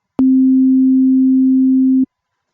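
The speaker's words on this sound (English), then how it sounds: "To generate my sound, I'm using Serum, which right now I'm dialed into a sine wave" A pure sine wave note from the Serum software synthesizer sounds as a single steady, clean low tone. It holds for about two seconds with clicks at its start and end, and nothing else is heard.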